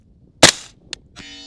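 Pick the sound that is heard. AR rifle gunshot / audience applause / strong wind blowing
AR rifle gunshot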